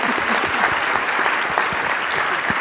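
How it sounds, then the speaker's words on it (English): Audience at the Georgia Bio Summit 2019 keynote applauding the speakers, a full, even burst of many hands clapping close and loud throughout, no voices standing out. "Can we give them a round of applause"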